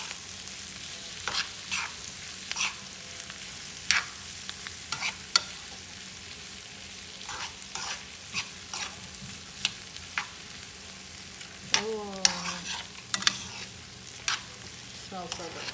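Brussels sprouts fry in butter in a pan, giving a steady sizzle broken by repeated scraping clicks of stirring, close and fairly loud. A voice briefly talks over it.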